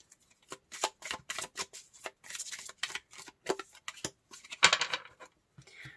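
Tarot cards are shuffled and drawn by hand in a quiet room, with crisp, close riffles and slaps coming in irregular bursts, a louder flurry near the end.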